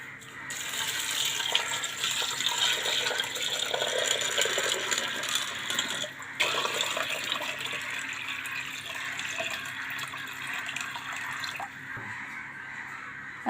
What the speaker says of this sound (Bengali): এখন এর মধ্যে পানি দিয়ে দিবি। পাথর বসানো হয়ে গেছে।